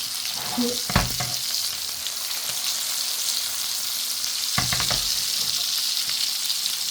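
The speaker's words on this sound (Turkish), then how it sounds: "Ki biberlerimiz de güzel kızarsın" Garden peppers frying in a hot pan alongside beef tenderloin give a steady close sizzle, broken twice by brief louder crackles and stirs.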